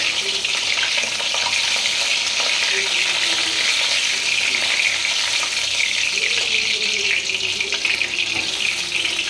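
Fish frying in a pan, a loud, dense, unbroken sizzle close by that sounds almost like running water, holding steady throughout with faint background murmurs.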